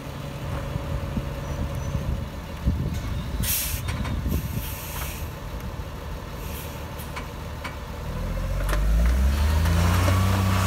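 A truck engine being revved while the vehicle is maneuvered back and forth in place: a steady low diesel rumble that swells into louder, sustained acceleration near the end, with no voices.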